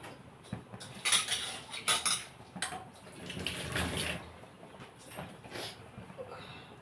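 A spoon scrapes and clinks against a pot while grass carp fish curry in tamarind gravy with turmeric is stirred, giving irregular metallic taps and scrapes, moderately close, with no talking.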